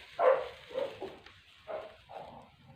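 Dogs bark outside, a few muffled, irregular barks spaced across a couple of seconds, faint and distant.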